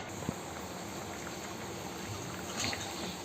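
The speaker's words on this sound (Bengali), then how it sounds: "সিদ্ধ হওয়ার জন্য আমার ডালটা সুন্দর করে ফুটছে।" Moong dal simmering in a pot, a soft continuous bubbling and faint liquid burble, quiet and steady throughout without any voices.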